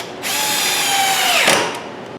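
A power drill drives a screw into a wooden deck chair brace, a single close whining burst lasting about a second and a half that ends with a sharp bite as the screw seats.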